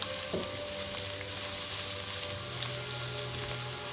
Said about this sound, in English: I'm gonna start with some fresh garlic, freshly minced garlic. Give that a good saute